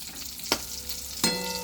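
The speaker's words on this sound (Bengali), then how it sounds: "চলো ভাজা হয়ে গেছে বেগুন আমার" Eggplant slices fry quietly in a pan with a soft, steady sizzle, broken by two short scraping stirs.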